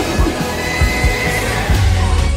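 A horse whinnies loudly and continuously in the Jumanji video game, a drawn-out, wavering neigh over a dense, busy backdrop.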